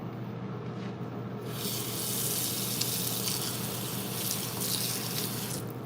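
Cabbage being washed under a running kitchen tap, a steady broadband gush of water into the sink that swells louder after the first second and holds on continuously, close and alone with no talking.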